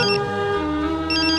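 A mobile phone plays a melodic ringtone during breakfast in a Hindi TV sitcom scene. The ringing is steady and fairly loud, with a chiming pattern and no talk over it.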